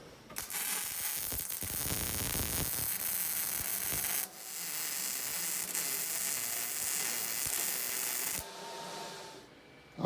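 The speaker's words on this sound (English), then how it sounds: "I got a clamp, and I'm going to weld this." Arc welding a steel plate onto a DeWalt rolling miter stand in tight quarters, a steady crackling sizzle running almost continuously with a brief break partway and a short pause near the end.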